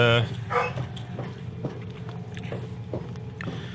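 A dog barks and yelps a few times at close range over steady background sound, its short sharp calls breaking through during a Fallout 3 gaming session with some voice underneath.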